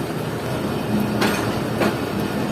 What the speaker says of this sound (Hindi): 146 डाउन सक्खर एक्सप्रेस आ रही है मेरे सामने से